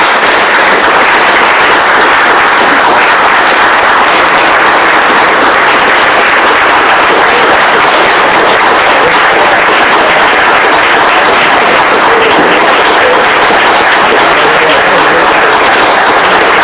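Loud, dense applause from an audience honoring state medalists at a committee meeting, many hands clapping steadily and continuously, close and uninterrupted for the whole stretch.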